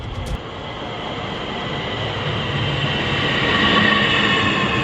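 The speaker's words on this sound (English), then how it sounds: "Board train and relax." A commuter train rides steadily along the rails, a continuous rumbling roll with wheel noise that swells slightly toward the end, heard up close from on board with no talk.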